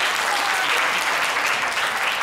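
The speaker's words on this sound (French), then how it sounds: "On va les applaudir très très fort." An audience at a television contest show finale claps for children, a brief burst of dense, even applause, loud and close throughout.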